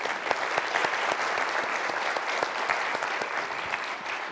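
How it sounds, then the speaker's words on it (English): A business forecast forum audience in Austin applauds its panelists, a dense, steady wash of many hands clapping at once, sustained and fairly loud throughout without any talk over it. "So how about one round of applause for all of our panelists at once?"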